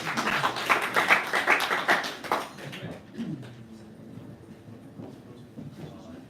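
Audience applause at a STEM teachers' TeachMeet event in Glasgow: dense, loud clapping for about two and a half seconds, then dying away into room murmur with a few faint voices.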